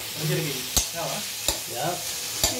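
Onions frying in hot oil with cinnamon, cloves and cardamom for a chicken curry, a close steady sizzle broken by three sharp clinks of a spoon stirring against the pan.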